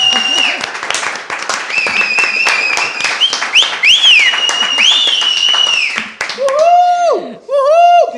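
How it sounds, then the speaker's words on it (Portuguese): Applause and cheering for a guest on a podcast set, scattered claps mixed with excited whoops and tonal exclamations, with voices shouting over the clapping near the end. "Uma salva de palmas."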